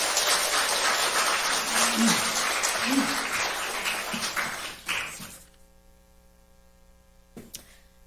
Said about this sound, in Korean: 여러분 격려 박수를 해주시기 바랍니다.